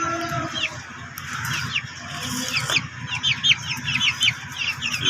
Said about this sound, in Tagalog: O, Chinese chicken, no?